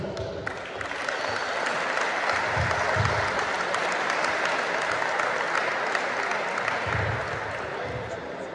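An audience at the Vranov futsal league 2024/2025 awards evening claps in sustained, even applause from start to finish, a full roomful of hands with a few low thumps underneath.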